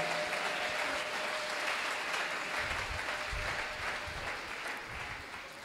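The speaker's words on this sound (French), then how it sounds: "Acclame pour le Seigneur Jésus." A church congregation applauds during a French-language sermon, a steady dense clapping that fills the room and slowly fades toward the end.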